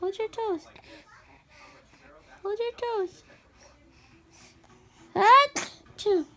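A single sneeze bursts out sharply near the end, following a child's babbling and an adult's short speech at close range.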